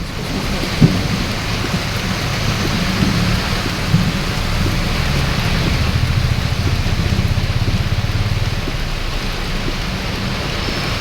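Heavy rain with a strong gale pours steadily in a Tamil news report on a sudden storm, a loud constant wash with low rumbling and a few sharp knocks.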